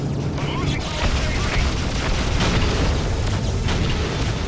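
Torpedo blast in the space combat game Freelancer, a dense rumbling boom with crackling bursts that fills the whole moment, loud and sustained.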